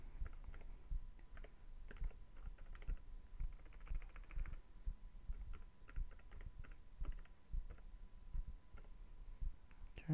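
A password is typed on a computer keyboard, quiet close-up key clicks in irregular bursts with short pauses, no voices.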